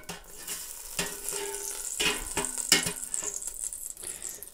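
Steak sizzles in an air fryer as it is flipped, with soft frying crackle under sharp metallic clinks and rattles from tongs and the basket, close and brief.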